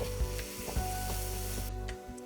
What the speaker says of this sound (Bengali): দিয়ে দিলাম টমেটো কুচি, কাঁচা লঙ্কা কুচি, পরিমাণ মতো নুন, হলুদ গুঁড়ো, লঙ্কার গুঁড়ো আর জিরে গুঁড়ো দিয়ে মশলাটাকে ভালোভাবে কষাবো